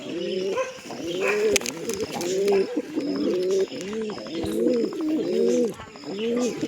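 Pigeons nesting over eggs coo in a steady run of rolling, throaty phrases, about a dozen close together, loud and near with only faint background noise.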